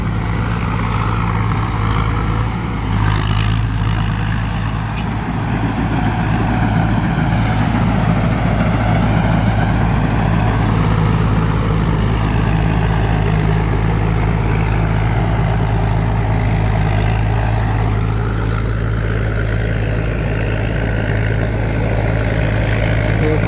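A combine harvester engine running steadily during a Thai rice harvest, a loud, constant low droning hum with a sustained high whine riding above it, with no clear talk.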